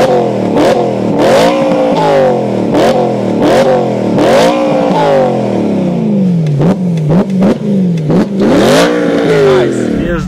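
Loud V8 car exhaust revs repeatedly, rising and falling in sharp bursts with crackles between, close and aggressive, followed by quicker blips and a final long rev.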